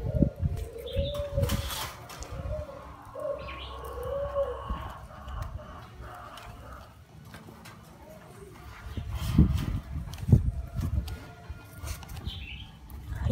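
A spotted dove coos in soft low repeated phrases at close range, with wing flutters, rustling and handling noise around it and occasional talk.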